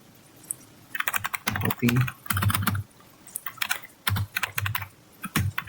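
Someone types terminal commands while configuring IPv6 addressing, giving close, clear keyboard clatter in short irregular bursts with brief pauses, mixed with a little speech.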